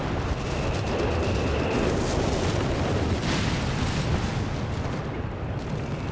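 Mortar fire in Company of Heroes 3, heard as a dense wash of battlefield booms and crackling gunfire with a couple of louder thumps, steady and loud throughout with no talk.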